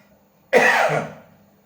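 A single harsh cough bursts out suddenly and trails off, close and fairly loud in an otherwise quiet space.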